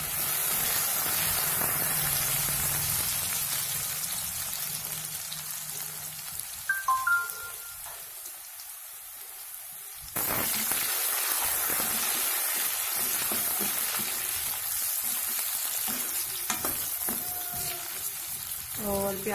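Onions fry in a pan over a chulha with a steady, close sizzle, broken by brief clinks and stirring. The sizzle drops for a moment midway and then returns strongly.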